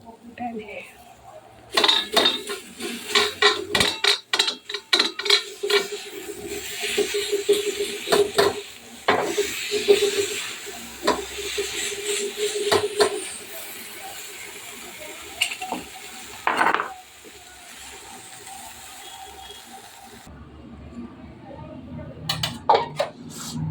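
Green chillies with a little oil are pounded for thecha in repeated sharp knocks and clinks, irregular in rhythm and close by, with some talking in between.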